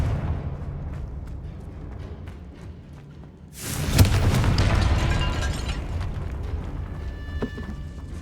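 The Confringo blasting curse goes off in Hogwarts Legacy inside a tomb: quiet ambience breaks into a sudden loud blast, followed by a heavy rumbling roar that slowly dies away.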